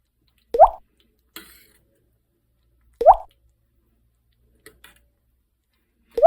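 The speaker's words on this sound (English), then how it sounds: "Just a little dollop at a time, because I don't know where the bigger spoons are" Pasta sauce dropped from a spoon in separate dollops, landing as soft wet plops, three clear ones spaced a couple of seconds apart with a few faint taps between, close and otherwise quiet.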